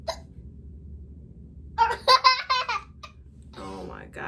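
A person hiccups several times in quick succession, with breathy laughter around the hiccups.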